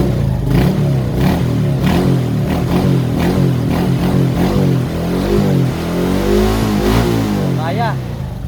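Suzuki Smash 115 motorcycle with a burnt carburetor wire, its engine revving up and down in repeated surges, near and loud, with someone talking over it.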